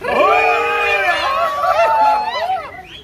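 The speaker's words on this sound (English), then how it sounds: "It's called the grito, and it sounds something like this." A single long, ringing Mexican grito shout rising and wavering in pitch, a loud festive yell sustained for a few seconds before trailing off.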